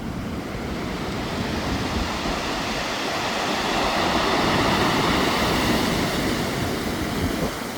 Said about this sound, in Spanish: escuchen el ruido del canto rodado cuando baja el agua